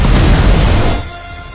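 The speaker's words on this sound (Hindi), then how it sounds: "दुनिया की सबसे बड़ी तोप बनाई" A giant siege cannon, the Basilica, fires with a huge, loud roaring blast that fills the first second, then cuts away to a faint rumbling tail.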